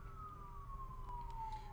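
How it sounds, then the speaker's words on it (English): A faint siren wails in the Elite Dangerous space game, a single steady tone sliding slowly downward over a low background hum. "now there are sirens outside"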